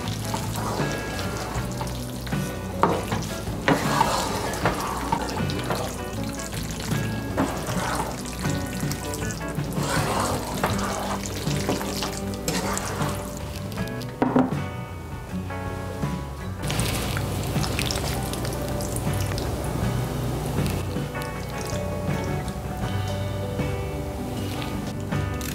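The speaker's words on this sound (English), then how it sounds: "give it a stir" Pasta sauce with basil and cheese being stirred in a hot pan, a steady sizzle broken by scraping and clinking of the spoon, close and without talk.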